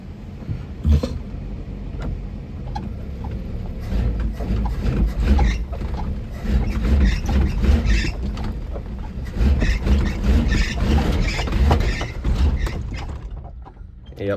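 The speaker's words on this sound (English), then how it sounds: "Last time in gear it was stalling out when you gave it a lot of gas." A Mercury Zephyr's engine is revved hard in gear, the loud mechanical roar rising and falling in surges for over ten seconds before dropping off as it stalls near the end.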